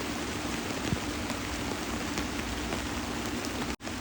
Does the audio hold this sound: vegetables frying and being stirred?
no